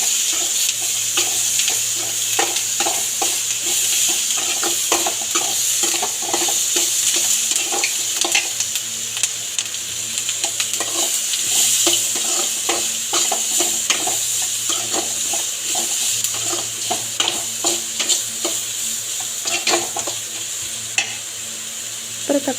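Capsicum sautés in a pan for a capsicum chutney, with a steady sizzle broken by frequent scraping stirs and clinks of the spatula, close and continuous, no talking.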